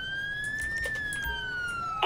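Police siren from a patrol car in GTA V with the LSPDFR mod, a steady wailing tone that slowly rises then falls, moderately loud with faint background rumble and no talk.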